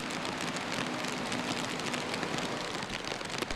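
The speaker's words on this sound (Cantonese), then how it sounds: "喺鰂魚涌，雨水由山坡沖落嚟，" Heavy rain from a black-rainstorm downpour pours steadily in Quarry Bay, with rainwater rushing down a hillside like a waterfall, a dense, even hiss that stays loud throughout.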